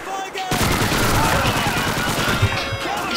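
Gunfire in Call of Duty 2 breaks out after a brief lull, a loud, sustained rattle of rapid shots that runs continuously, with one sharper crack near the end.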